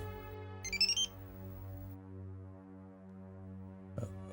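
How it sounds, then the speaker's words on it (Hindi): A phone rings in a room with a sustained electronic tone and hum, the ring chirping briefly near the start and again faintly at the end, with no talk over it. "आ गया सिंघानिया साहब का फोन"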